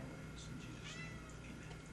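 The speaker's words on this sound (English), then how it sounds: "cat puts in an amen right in the middle" A house cat meows during a family prayer at home, a brief mew rising over steady background hum and faint voices nearby.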